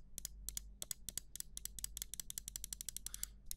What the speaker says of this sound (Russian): Правая кнопка мышки.